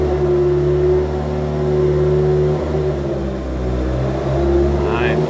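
A Mitsubishi Eclipse GSX runs while driving, its engine a steady loud drone inside the car that swells gently as it pulls.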